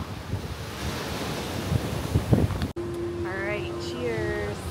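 Strong gusts of wind buffet the microphone over surf rumbling nearby at Varkala beach in Kerala, India, then a person speaks briefly as the wind keeps roaring underneath.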